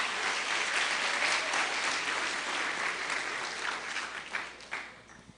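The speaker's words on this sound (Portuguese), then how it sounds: "Uma salva de palmas para o objeto ideal." Audience clapping together in a church or lecture hall, a dense, loud burst of applause that holds steady before thinning and fading out.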